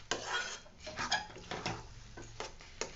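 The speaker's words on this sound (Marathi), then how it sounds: "असं सारखं मधून मधून हलवत राहायचं" A utensil stirs and scrapes around an iron kadhai over a low gas flame, bringing up carrot rasmalai from the bottom in a run of close metallic clinks and scrapes at an irregular pace.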